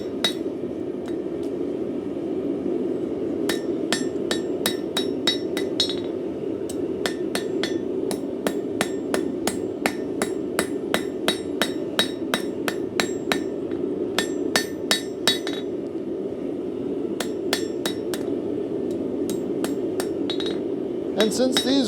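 A kitchen skewer being forged to a taper with a hammer: a steady series of sharp, ringing metallic strikes at a brisk, uneven rhythm, with short pauses between runs of blows, loud and close.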